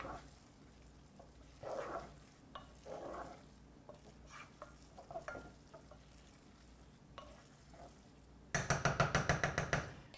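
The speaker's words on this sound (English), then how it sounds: "I'm going to take a couple spoonfuls of my dressing, add that to our grains. We'll stir it in." A spoon stirs a dressing into cooked grains for a Greek salad with shrimp, making quiet scrapes and soft knocks followed by a quick burst of rhythmic clinks against the bowl.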